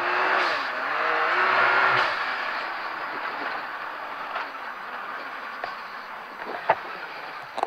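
Can-Am Maverick X3 UTV with upgraded shock suspension driving over the sand dunes at Glamis, its engine droning loudly under throttle and then easing off into road and wind noise with a few thumps.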